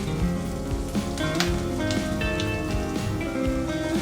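Potato pieces drop into a hot pan of mushroom masala curry, giving a steady, close sizzle with scattered crackling pops that continues evenly throughout, no voices.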